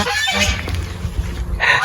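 Geese honking loudly and repeatedly around a garden, their calls coming in overlapping bursts close by with no one speaking.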